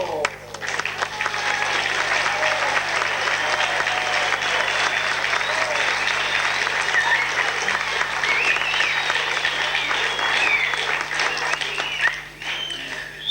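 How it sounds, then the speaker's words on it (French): A theatre audience bursts into loud, sustained applause, dense clapping that fills the room steadily for over twelve seconds before briefly dipping near the end, with a voice heard faintly underneath. "Et vous venez de l'applaudir."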